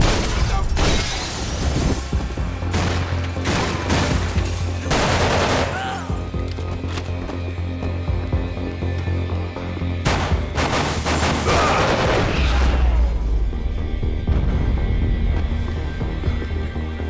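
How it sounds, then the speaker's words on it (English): Gunfire in Max Payne 3, with repeated bursts of shots and loud impacts set against a steady low drone, dense volleys near the start and again around the middle. "Shoot him already!"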